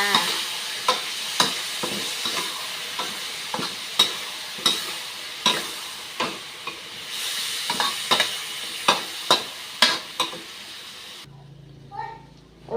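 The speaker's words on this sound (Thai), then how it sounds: "ใส่มะเขือเทศของเราลงไปเลย ต้นหอมด้วย คนให้เข้ากันจ้า" Pork and cucumber stir-fried with tomato and spring onion in a pan, a steady close sizzle broken by regular sharp scrapes and clacks of a spatula stirring, about one every second, ending in a brief quiet moment.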